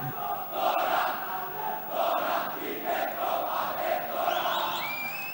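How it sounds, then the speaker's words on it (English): Schoolboys roar for S. Thomas' College at a school cricket match against St. Peter's College, loud crowd cheering that rises and falls in waves and carries on throughout. "The loud cheer for the Thomians by the schoolboys."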